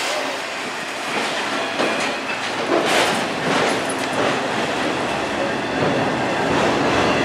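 A Norfolk Southern autorack freight train rumbles past up close, loud and continuous, with rattling cars and occasional clanks, while a voice speaks over it.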